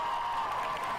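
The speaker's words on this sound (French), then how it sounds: "Ah oui, applaudissements." Applause from a video game crowd fills the short moment as a steady, fairly soft wash of clapping and cheering noise with no distinct individual claps.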